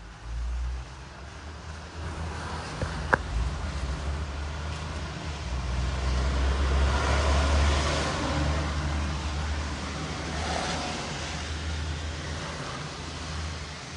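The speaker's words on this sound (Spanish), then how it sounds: "Estoy esperando que pasen los carros para bajarme." Cars pass on a street, a broad low rumble and tyre hiss swelling and fading as vehicles go by at moderate distance, with a brief click near the start.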